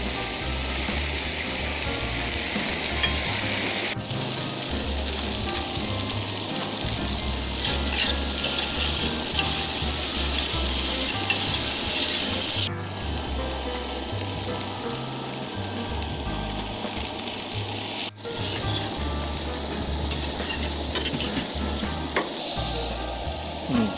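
Carrots with onions and a splash of soy sauce sizzle loudly in a hot pan for a vegan steam bun filling, a continuous hiss broken by stirring scrapes and brief pauses, with no talking.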